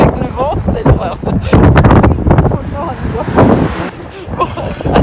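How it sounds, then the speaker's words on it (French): Strong winter wind buffets the microphone in a New York City street among tall buildings, a steady loud roar with gusty surges, while voices talk over it. "Je vous dis pas avec le vent, c'est l'horreur."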